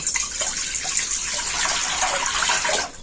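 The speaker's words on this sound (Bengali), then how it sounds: "এবার কড়ার মধ্যে দিয়ে দিচ্ছি জল" Water pours steadily into a cooking pan for a few seconds, a continuous close splashing gush that tapers off at the end.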